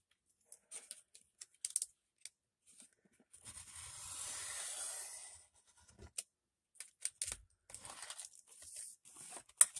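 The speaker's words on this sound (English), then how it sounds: "let's cut off this excess here first" A cutting blade trims excess cardboard from an empty Ritz cracker box, heard as close, scattered scratchy cuts and taps with one longer rasping slice in the middle, set against near silence.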